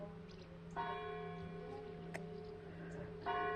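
A church bell rings at midday in the countryside near a farm. Three separate strikes sound fairly far off and soft, each leaving a long, ringing hum over quiet background air.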